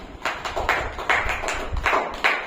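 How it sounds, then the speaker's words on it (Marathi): A group of schoolchildren in a classroom clapping together in a quick, fairly even rhythm of sharp hand claps, moderately loud and close, with no talking. "सर्वांनी टाळ्या वाजवा"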